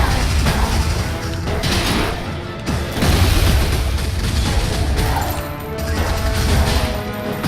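Fireball explosions from Wizard of Legend burst in dense, overlapping booms and crashes, loud and nearly continuous over several seconds with no voice.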